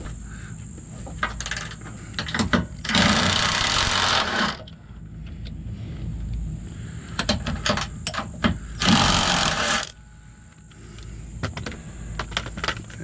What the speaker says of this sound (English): it looks like we got to take out the 2 nuts that are next to the body mount